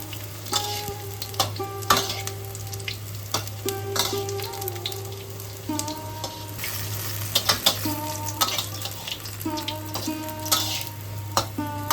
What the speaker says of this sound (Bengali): বেগুনগুলোকে উল্টে পাল্টে ভাজতে হবে ভালো করে।